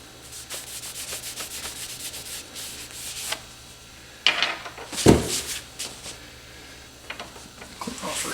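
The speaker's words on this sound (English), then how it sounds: "Take a rag here, wipe off some of the excess." A rag wipes across a table during arrow fletching work, soft scrubbing strokes in short bursts with a couple of louder knocks near the middle, close and fairly quiet.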